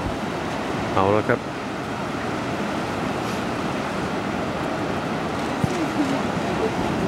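Strong ocean waves at Carmel Beach roar as a steady wash of surf, loud and continuous, with wind noise. Someone speaks briefly near the start.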